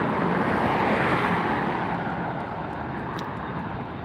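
A superjumbo airliner arrives at Los Angeles International Airport with a loud, steady jet roar close by that holds strong and eases only slightly over a few seconds.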